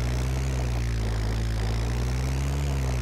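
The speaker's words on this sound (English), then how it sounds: "Apparently I'm still revving." A car engine revs in the video game DayZ, a loud, sustained droning hum that holds steady throughout with no voices.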